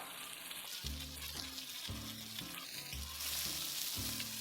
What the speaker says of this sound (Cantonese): 然後就可以將頭先醃好嘅蝦仁放落鑊， 再耐心一啲，將佢每面煎大概2分鐘左右